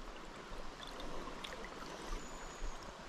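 River water running with some force in a trout stream, a steady rushing wash heard at low level with no voices.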